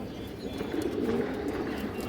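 Soft, throaty cooing comes from pigeons kept for sale, including a male bird, swelling slightly in the middle of the stretch. The sound is continuous and moderately faint with no voices.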